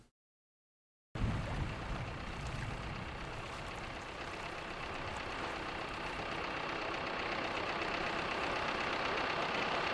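A boat engine in the video game The Facility starts after a brief silence, then runs as a steady, even drone with a watery wash beneath it, growing slightly louder, no voices.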